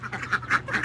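Ducks quacking in a short run of rhythmic nasal calls, about five quacks in quick succession at moderate distance, with a low background hum.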